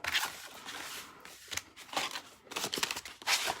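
Paper leaves being die-cut with a Big Shot machine, giving a series of crisp, close crinkling and scraping bursts as the crank turns and the paper shifts, with short pauses between them.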